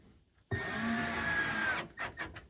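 A power driver whirs steadily for just over a second, driving a small screw into a roll-out shelf glide inside a cabinet. It stops abruptly and a few short handling knocks follow, close by.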